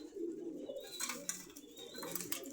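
Pigeons coo at Meradia market in Khilgaon, Dhaka, soft repeated throaty coos from nearby birds with faint background market noise, fairly quiet overall.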